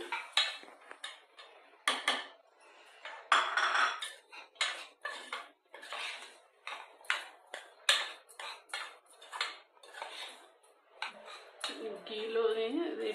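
Bombay rava is roasted in ghee in a pan, with a spoon scraping and knocking against the metal in irregular, close strokes while a person talks.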